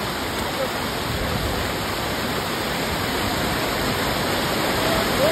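A waterfall roars in a steady, dense wash of falling water from start to finish, loud and unbroken, with no clear voices.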